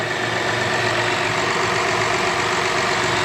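An 8th-generation Honda Accord with a 3.5 engine runs in a steady, loud drone close by, with no distinct rise or fall in pitch.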